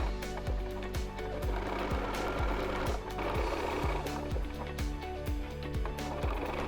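Sewing machine running a decorative stitch to bind a quilt, steady rhythmic clattering close up, with repeating thumps roughly every half second and no voices.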